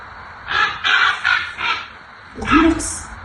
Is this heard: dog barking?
no